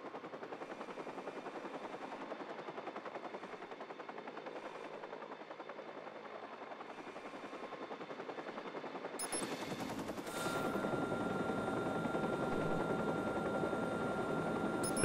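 Helicopter rotors in Watch Dogs drone steadily, growing louder partway through, joined by rapid bursts of gunfire.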